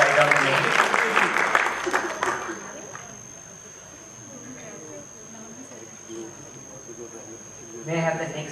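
Applause breaks out at a Toastmasters meeting, a short burst of clapping that fades into a quieter stretch before a voice begins speaking at the end.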